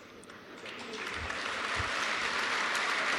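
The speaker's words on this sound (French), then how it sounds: "Là, je pense que ce n'est plus moi que vous applaudissez." Audience clapping at a live political debate rises from moderate to fuller applause across the few seconds, a continuous mass of hands with a couple of low thumps, and no voices on top.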